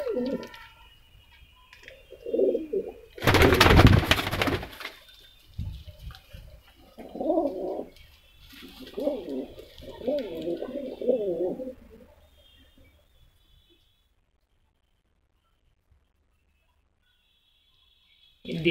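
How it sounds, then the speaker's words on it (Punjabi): Desi pigeons in a loft give several bursts of low, rolling coos at close range. Early on a loud knock or thump stands out, and later the loft falls nearly silent. "ਦੇਸੀ ਕਬੂਤਰ ਵੀ ਬਾਈ ਹੁਣਾਂ ਨੇ ਵਿੱਚ ਕਾਫੀ ਰੱਖੇ ਹੋਏ ਨੇ ਇਹਨਾਂ ਵਿੱਚ"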